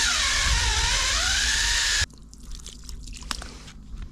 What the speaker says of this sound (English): The drill died.